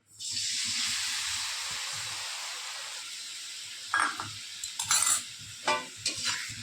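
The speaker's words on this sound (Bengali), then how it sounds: "মিশ্রণটা ভালো করে মিশিয়ে এটা দিয়ে দেবো তেলের ভিতরে" A blended spice mix poured into hot oil with cumin, bursting into a loud hiss that slowly settles, followed by clattering stirs and scrapes as it is mixed for a doi posto potato and pointed gourd curry.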